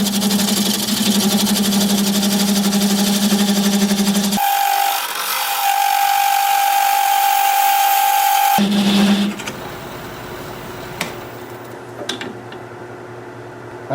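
A walnut blank spins on a wood lathe at about 700 RPM while a tenon is cut, giving a loud steady motor hum with a tonal whine that shifts pitch partway through, then drops to quieter scraping and taps.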